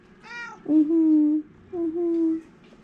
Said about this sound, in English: It's a sweetie kitty.